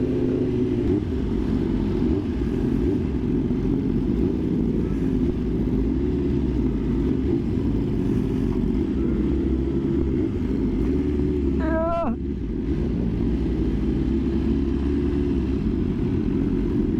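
A superbike at a street takeover in Dallas gives a loud, continuous engine drone, close and steady throughout, with a brief higher whine partway through.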